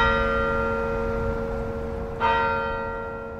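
A church bell in an abbey in Orléans tolls close and resonant, one ring already humming and then a fresh strike that blooms and slowly fades.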